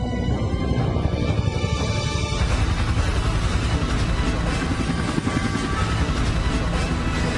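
A helicopter's steady rotor roar fills the air, loud and continuous, with a throbbing chop and engine whine that builds as it draws close.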